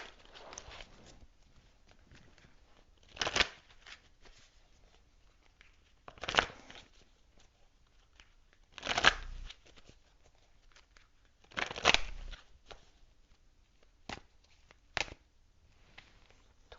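Tarot cards from an energy deck being shuffled, several short riffled bursts spaced a few seconds apart, close and crisp with quiet gaps between.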